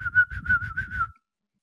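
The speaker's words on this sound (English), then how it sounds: "Solid whistle." A person whistling a short warbling note about six times in quick succession, close and clear, then falling silent.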